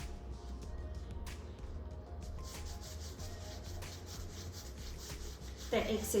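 A pastry brush sweeps excess flour off a rolled log of dough filled with Vegemite and cheese, giving a soft, steady rubbing swish close by, with a louder brushing burst at the end.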